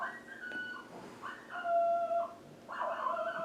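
A dog barks and howls repeatedly in drawn-out, tonal bursts, moderately loud over a steady background hum, with no one talking.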